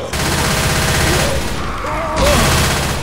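Rapid, dense gunfire from the Left 4 Dead 2 video game, loud and continuous throughout, with several weapons firing in overlapping bursts and no clear gaps.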